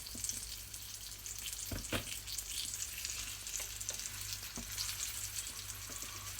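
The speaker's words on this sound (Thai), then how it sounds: "แม่บุญจะนำเนื้อที่เคลือบด้วยแป้งสาลีอเนกประสงค์ค่ะลงไปดัดกับกระทะนะคะ" Flour-coated meat, for an osso buco, frying in a hot pan, with a steady close crackling sizzle and occasional sharper pops and stirring clicks throughout.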